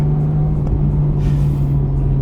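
Porsche GT3 RS engine while driving on the way to Costco: a steady, loud low drone with a sustained hum, heard from inside the cabin with road rumble beneath and no talk.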